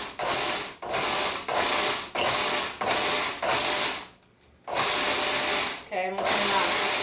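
A food processor pulses tapenade ingredients, including lemon and red pepper, in a steady series of short, loud whirring bursts separated by brief pauses, followed by a longer run.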